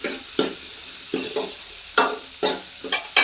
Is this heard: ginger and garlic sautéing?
yes